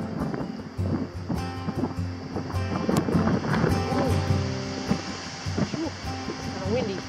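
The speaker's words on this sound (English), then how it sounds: "It's kind of windy" Gusty wind along the Appalachian Trail in Pennsylvania: steady rumbling buffeting across the microphone that rises and falls continuously, with a person talking over it.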